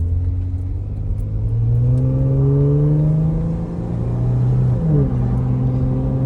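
A 2018 Jeep Wrangler JK with a 3.6L V6 and an aftermarket exhaust revs up and settles back, a loud close rumble with smooth rising and falling engine pitch.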